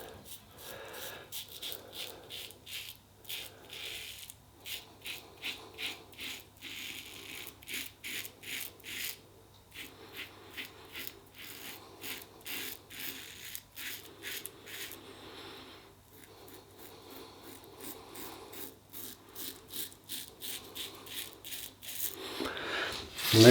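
A Boots the Chemist razor scraping through stubble in short, repeated strokes, a steady rhythm of close, raspy rubbing with brief pauses between passes.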